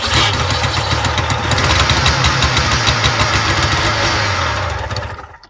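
Old engine that sat for years, started at -32°C on half choke, chugs loudly and unevenly up close with a knocking pulse, then dies away at the end.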